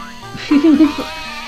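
Video game sheep gives a short bleat from a puzzle game, close and clear, over a quiet background with soft game tones.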